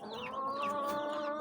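Aseel chickens scratching and digging in soil give a short, faint run of clucking calls, a brief tonal murmur from birds close by.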